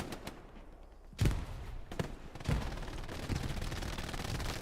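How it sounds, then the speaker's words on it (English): Machine gun fire in an online multiplayer shooter match: several heavy bursts of rapid shots with sharp thuds, loud and close, over a constant rumbling battlefield background. "Spud laying down that MG fire towards that hostile position."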